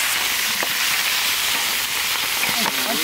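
Catla fish frying in hot oil gives a loud, dense, continuous sizzle and crackle, close up, with a few sharper pops and faint spoon scrapes near the end.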